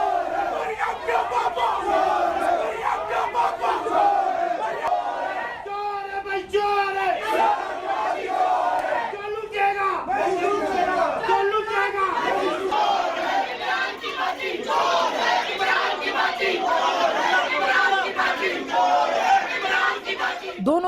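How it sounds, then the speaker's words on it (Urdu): Rival groups in Pakistan's parliament shout and chant "chor chor" at each other, a dense, rowdy crowd roar of rhythmic yelling that keeps going, loud and close, with overlapping voices throughout. "دونوں طرف سے چور چور کی آوازیں اور صدائیں آپ نے دیکھی"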